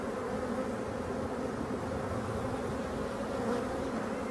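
Honeybees at a hive during colony handling, a dense, steady buzz of many insects droning continuously and fairly close, with no voices.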